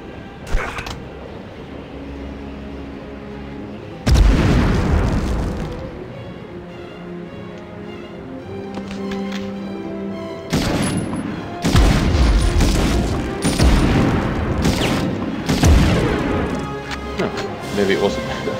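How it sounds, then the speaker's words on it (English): Grenade blasts in the 1999 Medal of Honor video game, several heavy booming explosions at intervals over continuous game background noise, with loud bursts and crashing debris, plus a voice talking at points. "Lob a grenade into it all."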